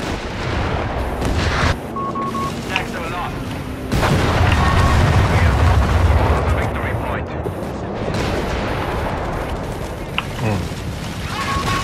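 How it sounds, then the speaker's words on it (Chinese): An artillery barrage in the video game Company of Heroes 3, with repeated booming impacts and gunfire rumbling through a dense battle soundscape, under excited talk from players. "他直接放炮击"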